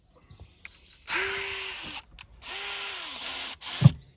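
Power drill boring into wood at an outdoor kitchen build, three close, loud whirring bursts about a second each with short pauses between, ending in a sharp knock.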